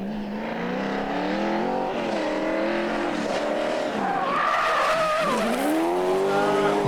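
A 7-liter, 500-horsepower drift car skids through a qualifying run, its engine wailing and rising in pitch over continuous tire squeal, loud and close throughout.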